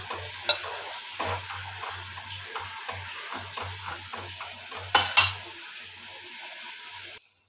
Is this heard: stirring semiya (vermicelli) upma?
yes